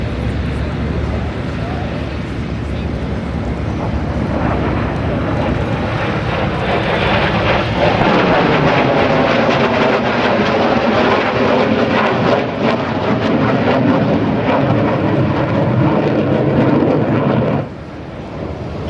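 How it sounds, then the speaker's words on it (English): An F-100F Super Sabre jet makes a flyby at an air show, a roar that builds into a loud, broad rushing blast and then drops away sharply near the end, heard from a distance with a faint voice underneath. "here comes the Hun, the F-100 Super Sabre"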